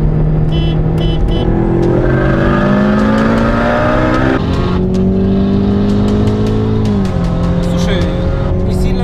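A turbocharged 400 hp Honda Civic races a Mustang and a Corvette, its engine droning loud and close with rising revs that drop at gear changes, while voices talk over it.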